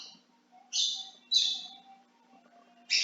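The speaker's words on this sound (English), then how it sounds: "if you guys hear my birds in the background" Pet birds chirping in short bright bursts, several separate calls spaced a moment apart at moderate level in the background of a quiet room.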